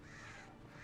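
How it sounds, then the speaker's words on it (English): Crows caw in the Alan Wake video game, a quick burst of harsh calls over a steady low ambient wash, with no talking. "Wrong birds, Alan."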